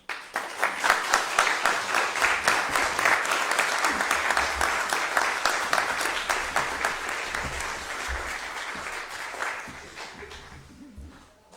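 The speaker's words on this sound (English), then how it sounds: "So one more round of applause for Shane." A ceremony crowd gives a warm round of applause for Eagle Scout Shane Rediker, with dense clapping that holds steady and then thins out and stops. A little background talk can be heard.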